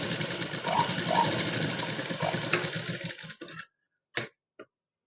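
A domestic sewing machine with a normal foot stitches thread piping in a fast, even run of needle clatter, close and loud, then stops abruptly, followed by two brief clicks.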